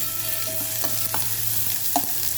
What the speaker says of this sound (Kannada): ಸ್ವಲ್ಪ ಜೀರಿಗೆ ಈರುಳ್ಳಿ ಅದಕ್ಕೆ ಸ್ವಲ್ಪ ಹೊತ್ತು ಬಾಡಿಸ್ಕೊಳ್ಳೋದು